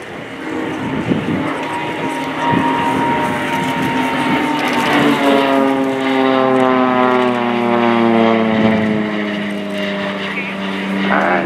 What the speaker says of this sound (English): We'll see him again soon by inverting his plane, and from this position he will fly 2 half rolls.